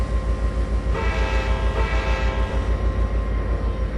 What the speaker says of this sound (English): Not another train coming into the yard, is there?